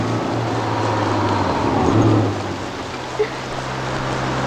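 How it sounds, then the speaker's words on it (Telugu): Steady rain falling close by, a soft continuous hiss with a low hum of passing traffic beneath it. "వర్షం పడుతుంది, ఆ బస్ స్టాప్ దగ్గరికి వెళ్దాం పదా."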